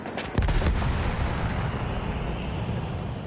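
Gunfire in a shooting video game: a sharp burst followed by a dense, continuous roar of shots and blasts that fills the whole short stretch, loud and with no talking.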